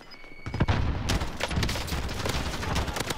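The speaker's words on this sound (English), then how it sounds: "Enemy precision airstrike" A precision airstrike in Call of Duty Warzone pounds down as a dense run of blasts and crackling gunfire-like bursts, steady and fairly loud for a few seconds with no voices over it.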